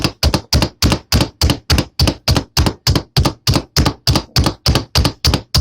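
A knife chops bacon and blue cheese finely on a board for burgers, about seventeen rapid, evenly spaced loud thunks in a steady rhythm, close and alone.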